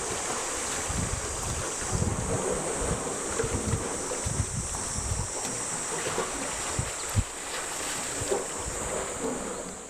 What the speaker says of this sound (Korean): 바위와 파도가 아름다운 소리를 빛내는 곳